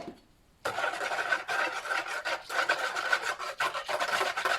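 Washing soda crystals stirred in a container to dissolve them give a steady scraping, rasping rub. After a short quiet start it runs near and continuous, with uneven strokes and no talk.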